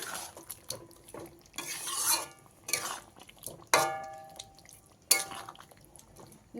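A spoon scrapes and stirs sugar and ground spice mix into a vegetarian pumpkin curry in a pan, in several sharp scraping bursts with quiet pauses between them, close by and without talk.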